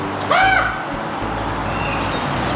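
A crow gives one loud, harsh caw close by, followed by steady background noise with no further calls.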